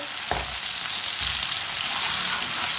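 Chopped tomato and finely cut green chilli fry in a pan with a steady, loud hiss, broken by a couple of low thumps near the start. No one speaks.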